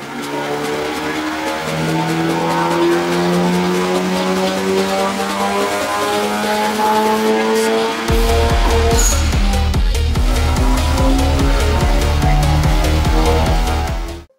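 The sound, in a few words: modified Honda Civic Type R FK8 engine revving on test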